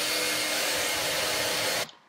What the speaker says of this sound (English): I decided to dry it off with a hairdryer